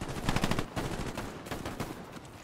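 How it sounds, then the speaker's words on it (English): Gunfire in the World War II shooter Hell Let Loose comes as rapid bursts of shots, a quick cluster followed by a few scattered cracks, heard at a moderate distance with no talk. "Was there shots coming behind us?"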